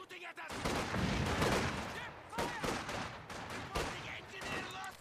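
Infantry rifle and machine-gun fire crackles in Company of Heroes 2, rapid overlapping bursts of battle gunfire at moderate distance, with in-game voice chatter mixed in.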